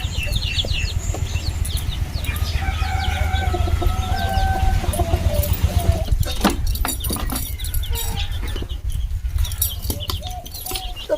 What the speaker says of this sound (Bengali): বড় মুরগিগুলো খাবার দিতে